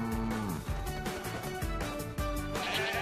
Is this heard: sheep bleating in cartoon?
yes